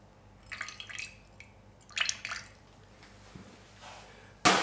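Five milliliters of spice tincture dripped into a turmeric ginger soda, a few soft wet drips and squishy liquid sounds spaced out over a quiet room, ending in a sudden louder splash or clink.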